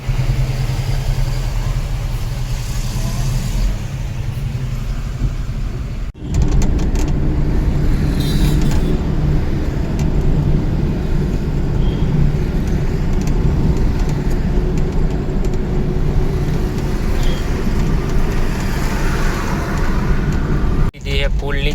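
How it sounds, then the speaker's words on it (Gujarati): A jeep drives near a covered shelter by a road, its engine rumbling steadily and loud close by with road noise, briefly cutting off and returning, while people talk over it. "એની જીપ લઈને આવે છે"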